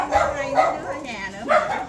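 Dogs bark and yip in short bursts near by, mixed in with people talking over them.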